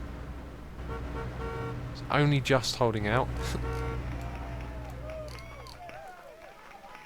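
Vehicles crossing a bridge in a bridge-building video game, a steady engine drone with a couple of bright honking horn toots in the middle and brief creaks, while someone talks over it.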